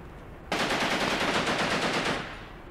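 Sustained tank machine gun fire in the WWII game Tank Warfare Tunisia 1943, a loud, rapid rattling burst lasting about a second and a half before cutting off, with no voices.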